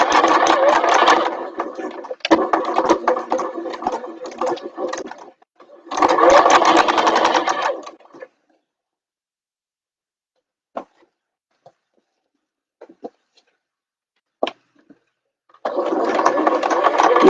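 A sewing machine stitches bag fabric near a zipper in several loud, fast mechanical bursts, including short back-stitch runs, separated by quiet pauses with occasional small clicks and handling noises.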